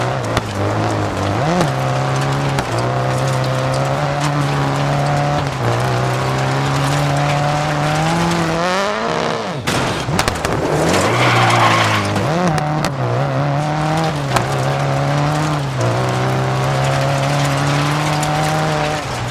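A rally car in the Dirt 4 video game drives on loud and close the whole time, its engine holding a steady drone while the tires skid and squeal, with a brief dip and a burst of gear-shift revs near the middle.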